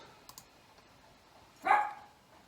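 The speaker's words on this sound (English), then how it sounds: "dog's going mad because his horse is going past" A single sharp bark rings out in the distance after a quiet stretch with a couple of faint clicks.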